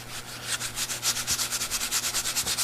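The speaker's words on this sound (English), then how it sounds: "take a little piece of sandpaper and just kind of lightly hit some of this, because I want it to be old and worn" Hand sanding of a Venetian lime plaster wall with sandpaper: close, rhythmic back-and-forth rasping strokes, quickening into a steady scrubbing pulse with a faint low hum underneath.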